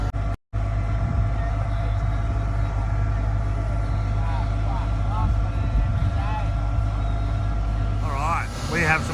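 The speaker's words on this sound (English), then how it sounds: "Get that pump going." Concrete pump running on a building site during a slab pour, a steady loud engine drone with a constant hum throughout, brief dropout near the start, with faint voices and a louder voice at the end.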